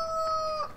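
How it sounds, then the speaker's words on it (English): A brief fragment of a cockerel crowing in the farming video game Farming Simulator 2013: one clear, tonal, sustained call, heard alone and close. "Oh, I haven't missed that cockerel"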